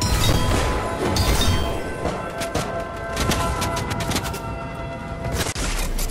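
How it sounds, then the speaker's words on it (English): Rapid gunfire from a sniper match in the Fortnite video game, with dense overlapping shots and crashing bursts that stay loud and continuous for about six seconds, and no voices. "I'm sniping them from back here."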